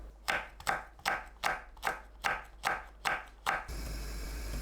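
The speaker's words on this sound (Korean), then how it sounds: "파, 홍고추를 둥글게 썰어주세요." Green onion and red chili sliced into rounds on a cutting board, eight evenly spaced knife chops in a steady rhythm, close and crisp, then a soft steady hiss to the end.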